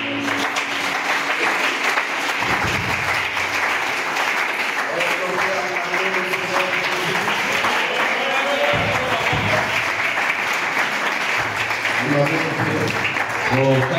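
A church congregation at a French-speaking service in Gabon applauds steadily throughout, a dense, sustained wash of clapping with voices audible underneath.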